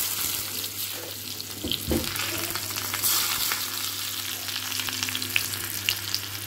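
Oil sizzling in a pan while spices are tempered, a steady close frying hiss with occasional stirring and clinking sounds and a faint background hum, with no speech.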